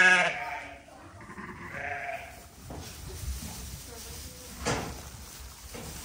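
Sheep bleat during lambing season on a farm with Jacob-cross lambs, a few loud, close calls heard while people talk nearby.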